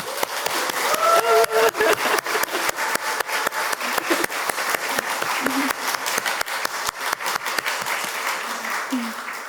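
A church congregation claps steadily and warmly for several seconds at a Sunday service, dense applause filling a large room, with a voice briefly audible underneath.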